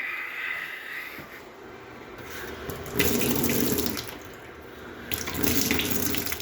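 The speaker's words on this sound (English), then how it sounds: "Both taps work." Water running from newly hooked-up sink taps, a steady splashing stream that swells louder in two stretches as a tap is opened further, with no one talking.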